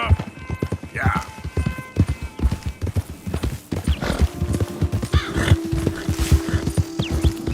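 In the Red Dead Redemption video game, horses trot with brisk, overlapping clip-clop hoofbeats, and a neigh rises over them. People talk over the steady rhythm.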